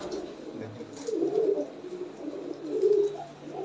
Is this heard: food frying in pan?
no